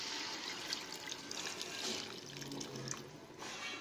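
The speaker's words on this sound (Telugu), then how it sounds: "చింతపండును ముందుగా నానబెట్టి జ్యూస్ తీసి రెడీగా పెట్టుకొని ఆ చింతపండు జ్యూస్ ఇందులో" Tamarind juice pours into a pot of fish curry, a steady liquid trickle and splash running continuously and fairly close, with no talking over it.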